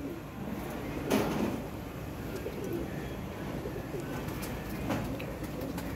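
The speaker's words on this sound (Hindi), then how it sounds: "देखें जरा नूर कबूतरी का।" Pigeons coo softly in a loft, with a few low, rounded calls over faint background rustle and a couple of brief knocks.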